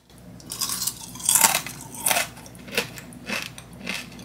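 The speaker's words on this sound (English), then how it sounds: "let's go ahead and do our homemade crunch test" Someone bites and chews homemade corn flake cereal in a taste test, with a run of close, crisp crunches repeating every half second or so and no talking.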